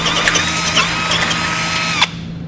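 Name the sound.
power drill drilling through steel frame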